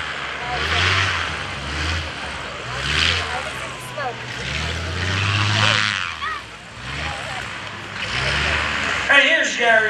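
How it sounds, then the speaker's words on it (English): A propeller airshow plane taxis at Greenwood Lake, its engine roaring and surging in waves. People talk loudly over the noise throughout. "He won't be able to hear you over the engine with the roar and the opening pipes and everything."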